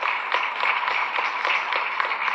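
Audience applause for Sadhguru at an evening conversation event, a steady dense wash of clapping that holds at an even level throughout, with no voices over it.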